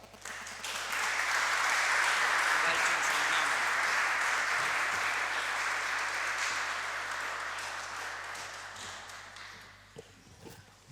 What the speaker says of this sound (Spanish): por nuestro presidente Carlos Varga, a quien recibimos con un fuerte aplauso.